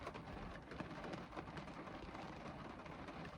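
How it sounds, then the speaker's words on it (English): Gentle rain patters steadily on the roof of a car, heard from inside as a soft, even wash of drops with no talking. "can you hear the sound of the rain on the car? It's just that like lovely gentle pitter patter of rain"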